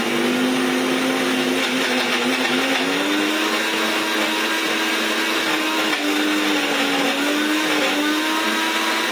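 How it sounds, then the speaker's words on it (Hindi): An electric grinder runs continuously on nuts, a loud, close, steady motor whine with a grinding rattle and slight shifts in pitch, with no voices. "इसे थोड़ा सा पहले ग्राइंड कर लेती हूँ"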